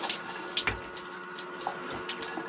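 Shower water running with dropping pressure, an uneven splashing hiss broken by irregular spurts and small bursts.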